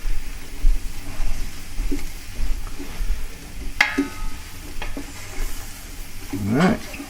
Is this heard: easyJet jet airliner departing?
no